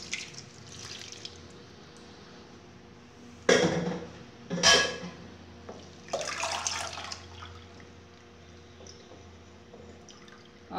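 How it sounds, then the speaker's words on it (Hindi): Soaked moong dal being rinsed under water in a kitchen: quiet background with a few splashy bursts of running water and sloshing, close and brief, separated by softer trickling and drips. "अब इसको दोबारा धो लेते हैं"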